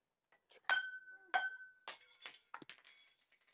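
A drinking glass from a cheap homeware store drops and shatters, a sharp ringing crash followed by several smaller clinks and tinkling fragments settling close by, with no talking.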